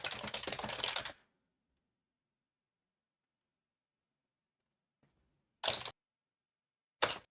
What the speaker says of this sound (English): Can you guys hear me typing?